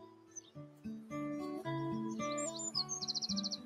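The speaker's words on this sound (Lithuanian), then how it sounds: "Nu rimtai čia paukščiai iš po tako išlenda." Birds sing and chirp along a forest nature trail, several clear tonal calls and trills close by, ending in a quick rapid series of high chirps, with no talking.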